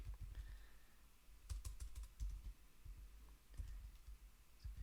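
Keys clatter on a computer keyboard in quick irregular bursts of soft clicks and thumps, close and fairly quiet, with short pauses between runs of typing.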